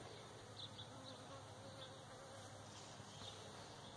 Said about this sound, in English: This clump of bees in my hay.